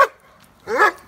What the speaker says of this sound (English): Big barky shepherds.